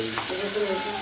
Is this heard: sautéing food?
yes